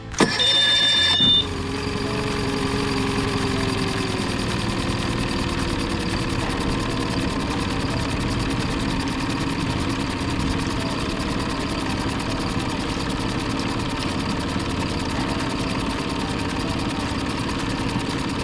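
A quick burst as a 2020 Mercury 20HP EFI outboard motor starts, then it settles into a steady, even, quiet idle that hums continuously for the rest of the clip.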